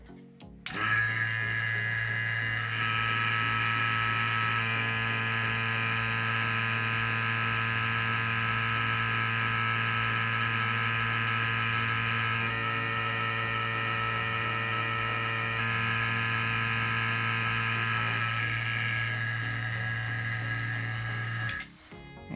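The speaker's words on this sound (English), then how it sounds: "We'll turn on the vacuum pump and then crack the vacuum ball valve." A loud, steady mechanical drone with a strong low hum and whining overtones runs continuously for about twenty seconds, shifting slightly partway through, then cuts off.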